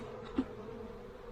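Honeybees in a hive hum faintly in a low, steady buzz, with one soft knock near the start.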